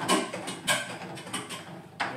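Plastic plumbing fitting being screwed tight on an aquarium sump, a few short scraping, ratcheting clicks in quick succession, close and fairly loud.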